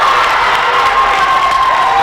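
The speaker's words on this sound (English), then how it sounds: "You can hear the crowd, Ron." Crowd at a boys' varsity high school wrestling match between Norwood and Norton, cheering and shouting in a dense, loud, continuous roar with no clear speech.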